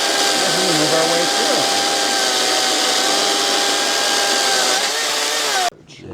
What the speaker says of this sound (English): will prevent that chainsaw from touching the jig. And this is the second cut.